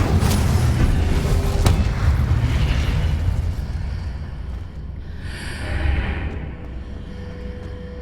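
Loud explosive spell blasts from Hogwarts Legacy gameplay, a heavy booming burst up front followed by rumbling debris and a second softer blast midway, with no talking.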